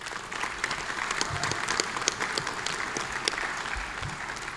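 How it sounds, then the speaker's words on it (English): Steady, full applause from the audience at an annual business meeting, a crowd clapping continuously at even loudness throughout without pause. "would you please give them one more round of applause?"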